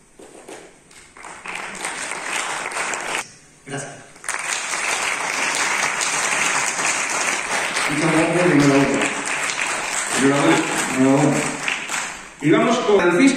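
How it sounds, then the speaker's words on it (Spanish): Applause from a short film festival audience at an award presentation. Sustained clapping fills most of the clip, with brief gaps and a presenter speaking in between near the end. "Un aplauso para ellos."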